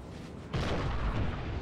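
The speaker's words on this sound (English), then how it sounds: "you have all these guns over here just firing from pretty far away" Artillery guns fire in a Napoleon Total War battle, a sudden loud boom followed by rumbling, distant-sounding cannon fire and battlefield din.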